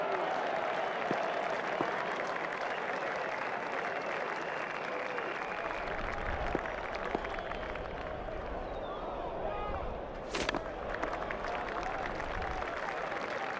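A stadium crowd in the cricket video game ICC Champions Trophy 2004 keeps up a broad, continuous roar of applause and cheering, steady and full across the whole stretch, with brief louder swells.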